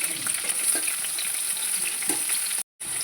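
Sliced green chillies and onion sizzle steadily in hot oil, a continuous close frying crackle with occasional stirring scrapes and a brief silent break near the end.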